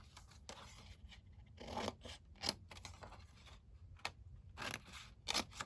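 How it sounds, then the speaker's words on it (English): Scissors snip a thin strip from a paper flap on a handmade junk journal, a series of close, crisp cuts and rustling bursts separated by short pauses, with no talking. "I'm actually going to cut out a little strip so that it will open and close easily."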